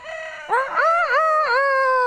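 A rooster crows loudly in the Recycling Center Simulator video game, a long, close, strained cock-a-doodle-doo with rising and falling wavering calls, alone without talk.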